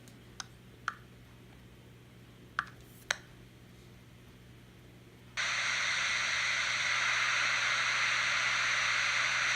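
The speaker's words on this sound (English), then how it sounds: "So as you can hear, it's nothing but static" A P-SB7 Spirit Box radio with its antenna removed gives a few faint clicks and ticks, then bursts into a loud, steady hiss of static that continues to the end.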